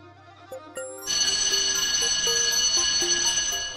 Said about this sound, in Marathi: योगिताला फोन करू दे बरं, काय करते.